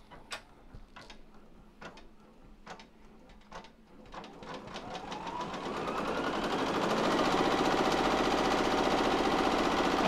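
An embroidery machine stitching an appliqué pocket in the hoop: sparse sharp needle taps at first, then rapid, dense mechanical rattling that builds and runs loud and steady to the end.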